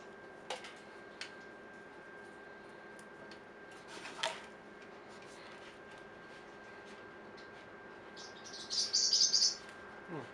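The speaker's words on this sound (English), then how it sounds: "Don't mind my bird." A pet bird gives a few sparse chirps early on, then a quick burst of high tweets near the end, over a quiet indoor background with faint ticking.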